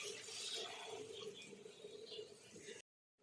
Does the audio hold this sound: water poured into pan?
yes